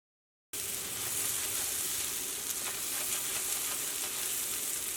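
Spices frying in hot oil in a pan for a cauliflower and potato curry, with a steady, close sizzle that starts abruptly after a brief silence and holds evenly, with faint stirring scrapes and no talking.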